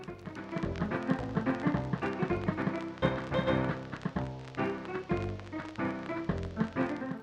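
A phonograph record played too fast in the Paper Mario video game: busy, sped-up game music with dense, bright notes and rapid tapping rhythm, fairly quiet and continuous, with no talking.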